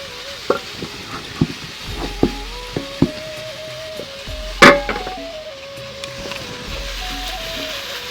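Salted vegetables are stirred in a pot, with sharp utensil knocks and scrapes at irregular intervals and one louder clatter midway, over a faint background hum.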